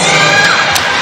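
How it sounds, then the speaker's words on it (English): Crowd at a Teqball World Cup match cheering loudly and steadily, with high shouts and whoops running through the whole short burst, no commentary on top. "the crowd are absolutely loving this"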